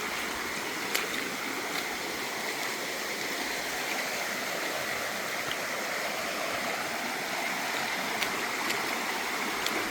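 Steady, broadband rush of a fast-running little creek in Pennsylvania, loud and close, with a few faint clicks and knocks over the continuous flow and no voices.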